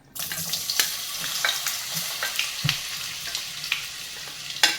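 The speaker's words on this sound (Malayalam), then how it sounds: "എണ്ണ ചൂടായിട്ടുണ്ട് നമുക്ക് ഉരുളക്കിഴങ്ങ് എണ്ണയിലേക്ക് ഇട്ട് കൊടുക്കാം" Potato pieces drop into hot oil for a Spanish omelette and fry with a steady close crackle and sizzle, broken by a few sharp pops and stirring clinks, with no talking.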